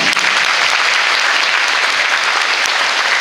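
A large audience at a Christmas carol concert applauds loudly and steadily, a dense wash of clapping hands with no pauses throughout.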